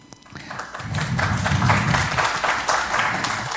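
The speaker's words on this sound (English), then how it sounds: "Welcome to UNPAR, and give applause." Seminar attendees at UNPAR clap to welcome a guest professor, the applause rising within the first second and holding steady at moderate loudness, a room full of hands with no talk on top.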